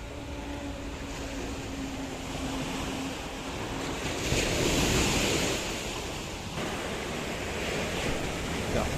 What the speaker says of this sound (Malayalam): കടൽ നല്ല പെടപെടൊക്കെ ഉണ്ട്